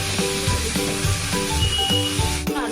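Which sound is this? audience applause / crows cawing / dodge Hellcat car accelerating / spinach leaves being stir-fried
spinach leaves being stir-fried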